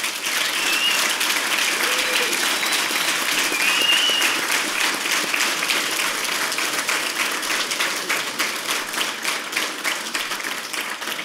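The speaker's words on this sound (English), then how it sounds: "Can we get a round of applause for the volunteers" Sustained audience applause for volunteers at a security conference prize-giving and closing address, a broad, even wash of many hands clapping that holds steady for several seconds.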